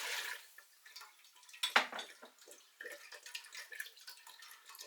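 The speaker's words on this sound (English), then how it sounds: "In goes the water as well." Water splashes and trickles into a cooking pot of green tomato chutney in short, uneven bursts, with a louder gush near the start, fairly close and quiet overall.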